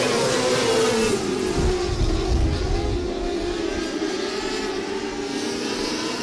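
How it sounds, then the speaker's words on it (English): 600cc micro sprint race cars roar around a dirt speedway oval at night, a steady loud blend of high-revving engines with pitch sweeping as cars pass, continuous throughout without talk. "Your final event of the night does 600cc micro sprints."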